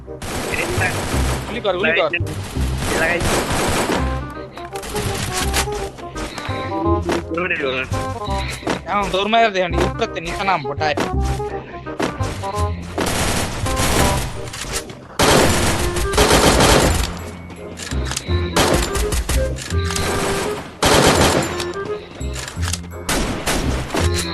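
Rapid bursts of gunfire from the video game Free Fire ring out again and again, loud and dense, with automatic fire and single shots under constant excited talk from the players.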